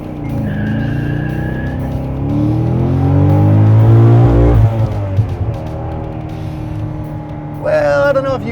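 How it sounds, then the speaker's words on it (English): A 2009 Chevrolet Corvette Z06 launches hard from a standstill in first gear, the engine roaring loudly as revs climb with a brief burst of wheel spin, heard from inside the cabin while a voice talks over it. "I don't know if you heard the noise there, but we got a little wheel spin"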